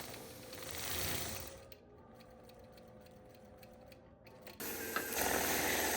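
Sewing machine quilting swirls on printed fabric around appliqué flowers, rapid rhythmic mechanical stitching that stops for a quiet stretch, then resumes loudly near the end.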